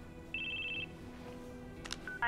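A phone ringtone plays during a Crisis Core Final Fantasy 7 Reunion game session, a steady electronic ring pulsing for about half a second, then a few brief chirps and a final ring starting at the end, all fairly faint.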